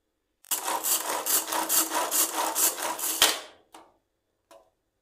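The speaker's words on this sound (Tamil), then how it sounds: "இப்போ இது எல்லாத்தையுமே ஒன்றா சாப் பண்ணிடலாம்." A knife chops rapidly and rhythmically through a bread omelette mixture of bread and seasoned ingredients, about ten quick close strokes in a row, followed by a couple of separate lighter taps.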